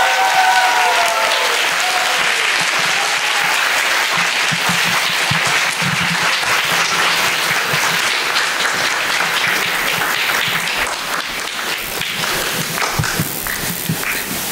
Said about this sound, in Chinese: 让我们用最热烈的掌声欢迎